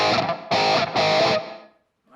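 Electric guitar played through a Flamma FS02 reverb pedal: two loud strummed chords with a bright sustained tone, each ringing out, then a reverb tail fading to near silence, with no voices.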